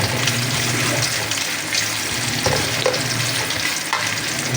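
Chili and ginger sauté in a hot pan for chicken sinigang, a steady close sizzle and crackle of frying with occasional stirring scrapes throughout.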